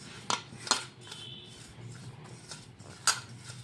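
Spoon clinks against a bowl while mixing salt, garam masala, cumin powder, coriander powder and turmeric powder together, a few sharp metallic taps over soft scraping and stirring, close and without talk.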